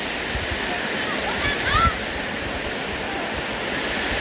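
A waterfall roars as a constant, full wash of falling water close by, with brief voices and a short burst of activity partway through.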